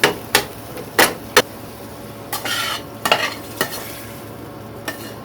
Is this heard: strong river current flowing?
no